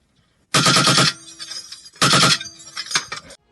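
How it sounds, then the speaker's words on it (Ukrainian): Ukrainian machine gunners fire two loud bursts of rapid automatic gunfire in Donbas combat, each a second or less, with rattling echoes and faint clinks ringing between them. "Так виглядає робота кулеметників."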